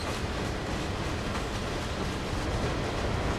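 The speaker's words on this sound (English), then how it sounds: "Listen to the carriages, though." Freight carriages rolling along the track in the Train Sim World game, CSX Heavy Haul route, a steady, dense rumbling wash of wheel and rail noise at moderate level, with no voices.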